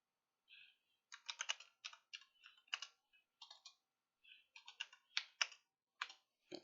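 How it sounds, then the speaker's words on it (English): A computer keyboard clicks in quick irregular bursts of keystrokes, crisp and close, separated by short pauses, with no talking. "Oh, my keyboard's going crazy when I don't want it to go crazy."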